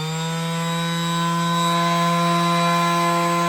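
A power sander runs with a slight wobble as it rotates, a loud steady whine with strong sustained tones, holding constant from start to finish.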